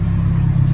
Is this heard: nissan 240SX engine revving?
yes